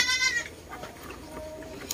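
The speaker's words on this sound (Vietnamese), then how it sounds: "Ở đây băng Tài nuôi chuồng chặt mà nuôi đông dê lắm" Several goats bleat in a crowded pen on a Vietnamese goat farm, a loud harmonic call at the start, then quieter overlapping bleats and a brief call near the end, with farm background noise throughout.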